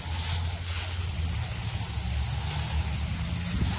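Water sprays steadily onto toilet paper laid out in a garden bed, with a continuous hissing rush mixed with wind buffeting outdoors, close and fairly loud throughout.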